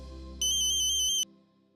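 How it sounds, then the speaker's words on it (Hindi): A phone ringtone chimes in a home setting, a single short burst of bright repeating electronic tones, clear and fairly loud over a low background hum. "अरे देवा, फोन आए।"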